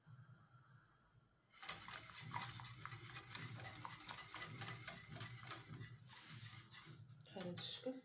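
Faint background murmur, then a spoon stirring cornstarch into caramel cream in a pot, with continuous scraping and clinking against the metal, soft and close.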